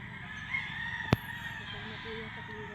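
A pure white Kelso gamefowl rooster lets out a single short, sharp crow, loud against a steady background hum.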